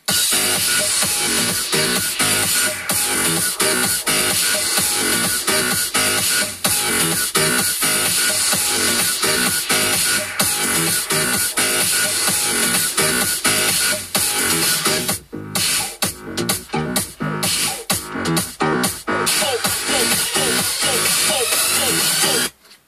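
Dense electronic backing track built for a remix, a steady wall of synths and beats playing continuously at full level, with a few brief dropouts near the end.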